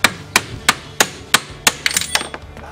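A hammer taps a stuck wrench on the suspension of a BMW E46 320 compact, six or seven sharp, evenly spaced metallic knocks followed by a quicker cluster of lighter taps, close and loud.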